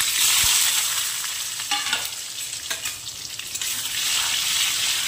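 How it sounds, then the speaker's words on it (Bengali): Dry red chillies, bay leaf, cardamom, cumin and onions crackle and sizzle loudly in hot oil for a mutton fry, with a steady hiss broken by spatula scrapes and stirring. "এবারে আমি এই যে শুকনো লঙ্কা, তেজপাতা, এলাচ আর জিরের ফোড়ন দিয়ে দিলাম।"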